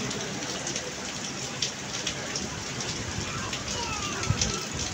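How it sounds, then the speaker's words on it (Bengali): A sudden downpour patters steadily on surfaces nearby, a dense, even hiss of raindrops with a few louder splashes, continuing throughout. "আর এই বৃষ্টিটা অনেক প্রয়োজন ছিল"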